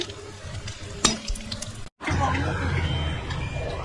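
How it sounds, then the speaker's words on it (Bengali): Three dry red chillies temper in hot oil for Kolkata-style chicken rezala, a close, steady sizzle with crackles and stirring scrapes, briefly cut off by a short gap before the frying hiss resumes. "3টে শুকনো লঙ্কা ফোড়নে দিয়ে দিলাম। এবার তেলটা ভালো করে গরম হচ্ছে।"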